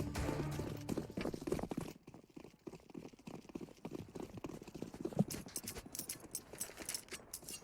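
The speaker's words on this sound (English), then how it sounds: "Oh, Brokey's heard the footstep." Footsteps in a Counter-Strike: Global Offensive match on the Train map, a quick run of soft, rhythmic steps among faint game noise, with no speech over them.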